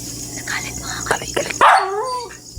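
A dog gives a few sharp barks and yips close by, ending in a loud drawn-out whine, with people talking around it at a house at night.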